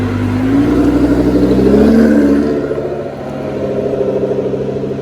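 A Ferrari 812 GTS V12 convertible pulls away on a Monaco street, its engine note rising in a loud, close rev before easing into a steady rumble as it moves off.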